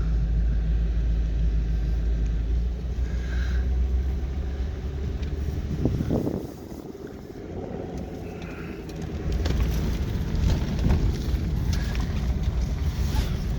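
A car rides along a road, its steady low engine and road rumble running throughout with a dip in level midway, plus some wind noise and no talk.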